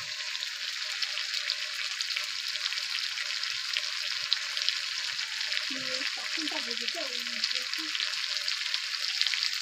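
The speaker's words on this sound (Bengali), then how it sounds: "দেখে নাও রান্না করছে, আগুন জ্বলতে নিচে" Food sizzles steadily in a pan over an open fire at night beside the Sundarbans jungle, a dense continuous frying hiss running throughout, with a few faint tonal sounds briefly rising midway.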